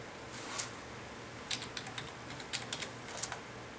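Password entry on a computer keyboard during online bank enrollment, with several close, light key clicks in short irregular clusters over a low background hum.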